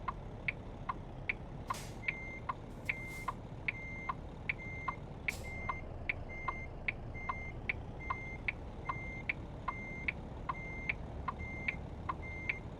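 A truck in American Truck Simulator gives steady, evenly spaced reversing beeps while it backs up toward pallets. The beeps sit over a low engine rumble, with a few brief hisses in between.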